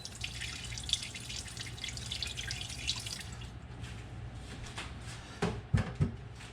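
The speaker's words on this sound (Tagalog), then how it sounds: "Lagyan natin ng tubig para magkaroon siya ng moisture." Water pours into a Pyrex glass baking pan, a soft continuous trickle and splash that trails off into a few close, distinct drips and clinks near the end.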